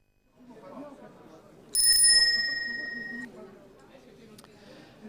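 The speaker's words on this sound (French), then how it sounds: "La petite sonnette qu'on retrouve sur tous les vélos" A bicycle bell rings once with a bright, ringing tone that fades over a second or so, against faint background murmur, at the FUB 2022 cycling congress.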